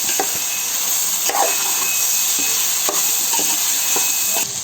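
A spoon scrapes and stirs a brinjal tomato curry with Maggi masala in a pan, steady sizzling frying noise beneath several distinct stirring knocks, close and loud.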